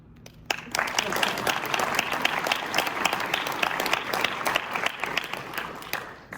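Sustained applause from a crowd at a chamber of commerce annual meeting and awards presentation swells in after a brief quiet moment and holds at a steady, dense level with some talk mixed in.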